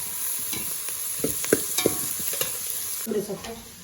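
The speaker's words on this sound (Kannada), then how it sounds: "ಇದನ್ನ ಸ್ವಲ್ಪ ಬ್ರೌನ್ ಆಗೋ ತನಕ ಟರ್ನ್ ಗೋಲ್ಡನ್ ಬ್ರೌನ್ ಆಗೋ ತನಕ ಸ್ವಲ್ಪ ಸಾಟ್ ಮಾಡ್ಕೊಬೇಕು" Food sizzles in a hot pan while being sautéed until golden brown, with irregular scraping stir strokes against the pan over a steady frying hiss, close and moderately loud.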